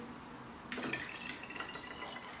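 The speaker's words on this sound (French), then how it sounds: "On va pouvoir verser du jus de cranberry doucement dans la bouteille." Cranberry juice is poured slowly through a funnel into a bottle, giving a soft, faint trickle and gurgle that begins after a quiet moment and continues close by.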